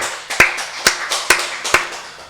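A church congregation at a Wednesday worship service claps in unison, with five or six sharp, evenly spaced claps ringing out clearly in a reverberant room.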